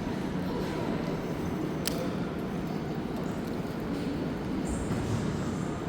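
A Montreal Metro MR-73 train on the Green Line between Viau and de l'Église stations rumbles along the tracks with a steady low roar, a brief metallic squeal cutting through partway, the sound continuous and enveloping.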